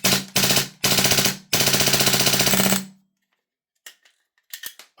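A Vorsk VMP-2 gas blowback airsoft rifle fires four very loud, rapid bursts of sharp cracks up close. Quiet follows, with only a few small mechanical clicks.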